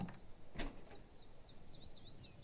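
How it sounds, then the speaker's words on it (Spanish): A door pushed open hard in the stealth game Thief Simulator, a short sharp creak and thump near the start followed by a quieter rattle, with faint chirping over low room noise. "he abierto la puerta un poco fuerte"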